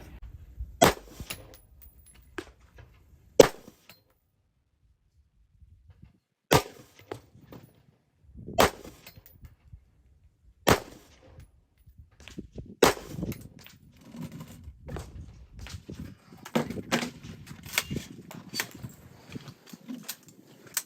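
Rifle shots fired at a range while zeroing a rifle: several sharp, loud reports spaced a few seconds apart, followed by quieter handling and rustling noises toward the end.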